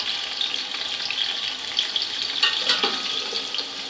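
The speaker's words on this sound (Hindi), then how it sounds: "आलूओं को हम तकरीबन 10 से 12 मिनट तक भून लेंगे, या तब तक जब तक ये लाइट ब्राउन नहीं हो जाते।" Over a kilo of potatoes fries in a pan, a bright continuous sizzle with hissing spatter, fairly close, swelling slightly toward the end.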